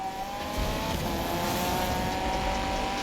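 Mazda Miata in the Need for Speed 2015 racing game, a loud continuous engine drone with a steady tonal whine and road roar, holding at a sustained high pitch throughout.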